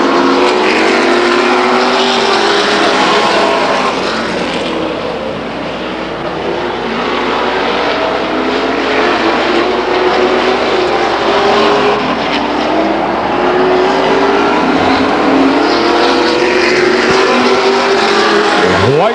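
Stock race cars lap Stockton 99 Speedway, a continuous loud engine roar with rising and falling pitch sweeps as cars pass through the turns, the pack noise sustained throughout.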